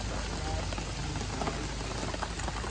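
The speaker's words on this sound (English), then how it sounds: "It's raining, which makes me kind of sad." Rain falls at a cabin site with tarps up, a dense, even hiss of drops pattering on surfaces nearby, fairly quiet and continuous over a few seconds.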